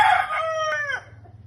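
A backyard rooster gives a single loud, close crow that rises and trails off, with soft low clucking from other chickens underneath.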